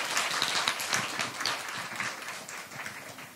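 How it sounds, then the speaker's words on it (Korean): An audience at a classical music forum lecture on Beethoven applauds a visiting violinist, a soft, dense patter of many hands clapping steadily from a distance and fading slightly toward the end. "박수로 한번."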